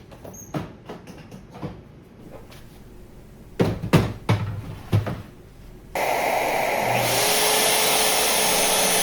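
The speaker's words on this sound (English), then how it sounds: "I start by cutting the V-grooves with a 60-degree engraving bit." Scattered clicks and knocks of handling, then a Shaper Origin CNC router with a 60-degree engraving bit spins up into a loud, continuous, high whine for V-groove cutting, close by with no talk.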